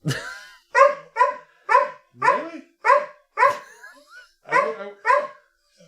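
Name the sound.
dog barking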